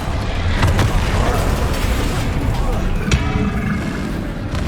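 A Bombarda blasting spell explodes in Hogwarts Legacy, a loud, dense burst of crashing booms and rumbling debris that fills the whole moment and never drops away.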